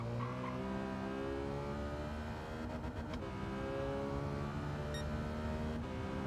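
Race car on hard tyres in Gran Turismo 7 drones steadily at high revs through the whole run, its engine note rising and falling in smooth harmonic sweeps, with a few short electronic beeps near the end.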